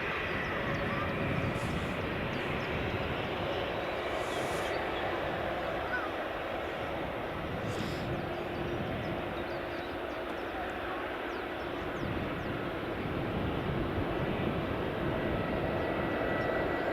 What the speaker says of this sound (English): WestJet's taxiing again.